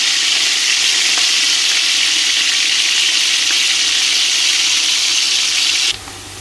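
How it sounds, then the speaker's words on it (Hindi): Onions frying in hot oil in a pot for mutton pulao, a loud, dense, continuous sizzle close up that drops off abruptly near the end, with no voices. "ऑयल गर्म हो चुका है जी, प्याज डालेंगे इसमें। प्याज को ब्राउन होने देते हैं।"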